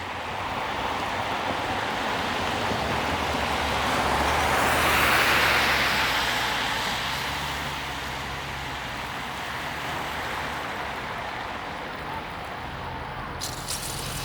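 Riding a bicycle along Davenport Road in Toronto in the rain, with a steady broadband wash of wet tires and passing traffic, one car swelling louder midway before the hiss settles back to a constant roar.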